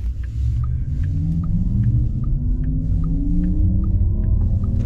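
Porsche Taycan electric car producing its synthetic drive sound, a steady low rumble and hum with rising tonal sweeps layered above, loud and continuous throughout.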